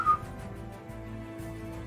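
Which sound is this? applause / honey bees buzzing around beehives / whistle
whistle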